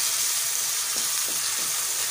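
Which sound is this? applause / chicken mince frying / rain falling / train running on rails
chicken mince frying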